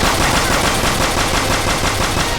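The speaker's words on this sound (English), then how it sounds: "we're all using guns except for fucking Mona, who's got a goddamn slingshot" Dense, continuous automatic gunfire from several guns in the video game Persona 5 Royal, a loud rapid barrage that runs the whole stretch with no pauses and no talking.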